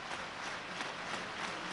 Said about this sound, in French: Voilà, et maintenant on applaudit